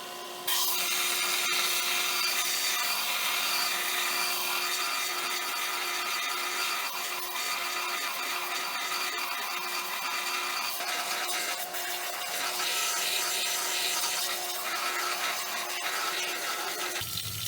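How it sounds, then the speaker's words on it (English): Belt sander grinding metal nails to a point, a steady continuous abrasive rasp with bright high hiss that holds throughout with slight shifts in pressure and no talk. "now I'm going to sharpen each one with the belt sander so it has"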